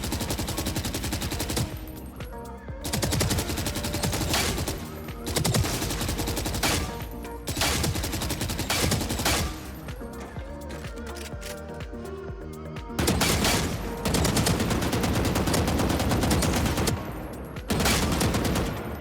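Phantom rifle fire from Valorant: loud, dense full-auto bursts lasting several seconds each, separated by brief gaps, with no voices over it.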